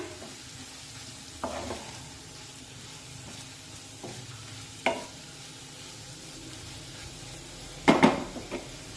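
Roasted peanut powder being stirred into a potato dish in a pan, heard as a few scattered scraping and clinking strokes against the pan over a quiet low sizzle, with a louder burst of clatter near the end.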